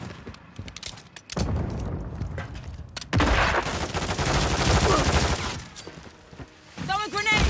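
Loud, close automatic gunfire in a Call of Duty Modern Warfare 3 team deathmatch on Rio, a brief burst followed by long sustained rattling fire, with a voice briefly heard near the end.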